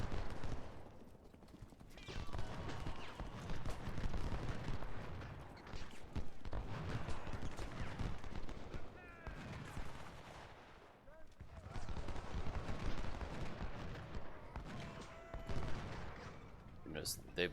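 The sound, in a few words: musket fire at artillery in a Total War video game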